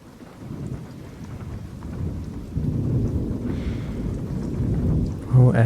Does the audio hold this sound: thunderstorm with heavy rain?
yes